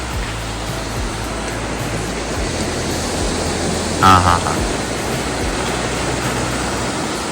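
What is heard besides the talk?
sea waves at Kashid beach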